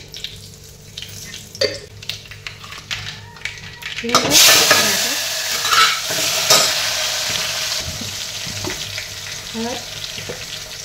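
Cumin seeds hit hot oil for Kolhapuri-style amti, bursting into a loud broadband sizzle partway through after quieter kitchen clatter, then crackling steadily with occasional utensil clinks and stirring.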